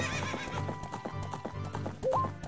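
Epona the horse at Lon Lon Ranch in Ocarina of Time trots with steady, close clip-clop hoofbeats, and a short rising whinny breaks through near the end.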